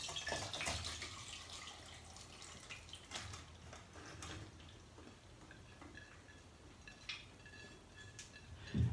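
Water with salted onions splashes through a sieve into a cooking pot in a kitchen, faint uneven pouring and dripping with a few louder splashes.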